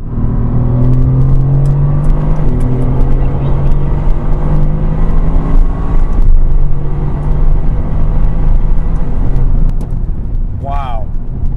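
Tuned 2018 Mercedes-AMG GT R engine accelerating hard at high speed, a loud, continuous roar whose pitch climbs in repeated pulls across several gear changes, heard from on board.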